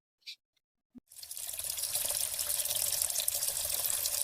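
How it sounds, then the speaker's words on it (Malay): A tap in a rented house is opened after a short click and knock, and water then runs steadily into a sink as a continuous splashing hiss that holds at moderate loudness to the end. "Kan, air tak tutup pun."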